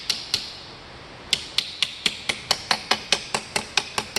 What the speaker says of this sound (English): And hammer as close to the edge of the anvil as possible to get yourself the crispest possible line.